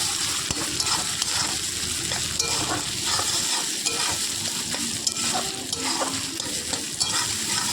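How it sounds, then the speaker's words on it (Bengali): Grated coconut sizzles steadily as it fries in a pan, with a constant close hiss broken by scraping stirs throughout, and no voices. "নারকেলটা একটু ভাজা হতে থাক।"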